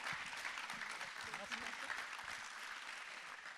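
A crowd at an agricultural innovation trophy ceremony applauds, a dense, fairly distant wash of clapping that holds steady throughout, with a voice faintly audible beneath it.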